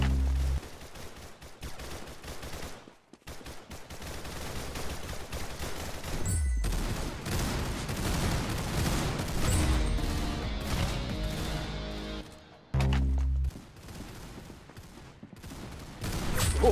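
Gunfire from the Roblox game Arsenal plays as dense bursts of rapid shots and crashes, separated by brief silent gaps, at moderate loudness with no talk.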